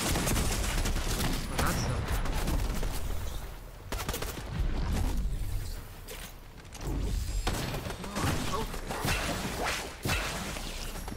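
Shotgun blasts in a Fortnite match, several sharp loud bangs spaced a couple of seconds apart over a dense, continuous bed of game noise and whooshing effects.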